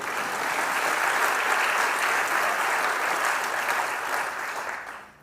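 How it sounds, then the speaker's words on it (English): Steady applause from a crowd at a county budget presentation, honoring former elected officials. The clapping is dense and sustained, then fades away at the close. "let's give them a round of applause"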